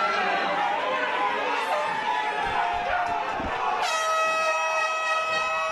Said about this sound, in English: The blow horn you've been hearing all show tonight, that's La Sombra's family.